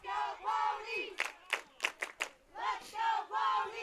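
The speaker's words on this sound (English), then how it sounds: "Good crowd, as you can hear it in front of us." A high school football crowd at South Fork vs St. Anne roars and cheers in loud swelling waves, broken midway by a burst of sharp rhythmic shouts or claps, then surging again.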